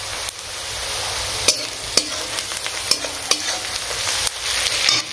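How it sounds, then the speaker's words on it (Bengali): Onion frying in a pan with whole garam masala, a steady sizzle broken by several sharp clinks and scrapes of a spoon stirring, close and loud. "এখানে গোটা গরম মশলা ফোড়নে দিয়ে পেঁয়াজটা ভেজে নিচ্ছি"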